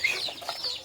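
Country chickens and chicks cluck softly in short, scattered calls, close by and fairly faint, over a quiet background.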